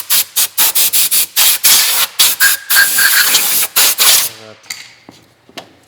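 Short bursts of compressed air hiss hard and close against a Ford car chassis, a rapid string of sharp blasts, then one longer sustained blow that tails off into quieter clanks and faint handling noises.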